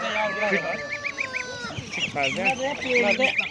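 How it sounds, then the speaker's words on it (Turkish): Ornamental hens and roosters cluck and call at a poultry market in Sungurlu, Çorum, with close, repeated tonal squawks in short bursts, while people talk nearby underneath. "Tamam bu süs tavukları, süs horozları"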